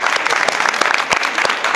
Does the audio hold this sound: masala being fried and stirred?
no